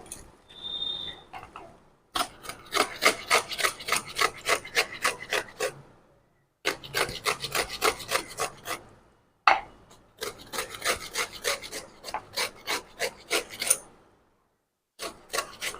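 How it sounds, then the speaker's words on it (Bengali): Watermelon rind scrapes across a hand grater in quick, rhythmic rasping strokes. The strokes come in four long runs separated by short pauses and sound close and clear, with no talking. "আমি এই ঘষণটি নিয়েছি এটা দিয়ে আমি ঘষে নেবো"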